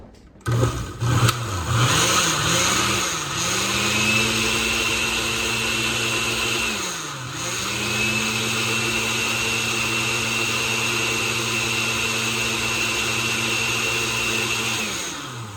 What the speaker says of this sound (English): I'm just gonna give it a couple more quick pulses.